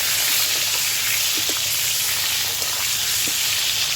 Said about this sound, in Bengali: কড়ার মধ্যে আমি সাদা তেল দিয়েছি, এবার পটলটা ভেজে নেব।